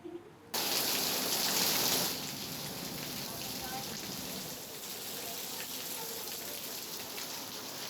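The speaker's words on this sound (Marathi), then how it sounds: "रत्नागिरीमध्ये सकाळपासूनच मान्सून पूर्व पावसाच्या जोरदार सरी बरसतायत" Heavy pre-monsoon rain showers pour steadily in Ratnagiri's Lanja area, a dense hiss of falling rain that starts abruptly, peaks briefly, then settles into a constant wash.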